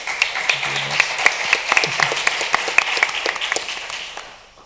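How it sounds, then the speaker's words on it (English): Applause from a conference audience for a panel of startup and business speakers, a dense patter of many hands clapping steadily for several seconds, then tapering off toward the end. "give our wonderful speakers a great round of applause"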